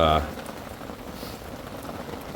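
Heavy rain lashes down outdoors during roadside brake caliper work, a dense, continuous patter close by that follows a brief burst of noise at the start.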